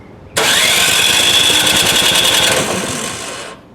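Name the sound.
snowblower engine cranking and starting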